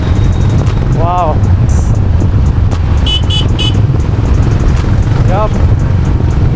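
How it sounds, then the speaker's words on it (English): A Honda CB350 RS motorcycle rumbles steadily while riding, its engine and exhaust loud and close amid road noise, with a few short horn toots from passing traffic. "And the exhaust note just sounds absolutely lovely."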